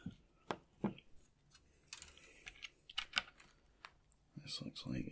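Sharp snips of hobby clippers cutting Warhammer model parts from the sprue, several crisp clicks spaced irregularly, close and quiet, with soft handling noise in between.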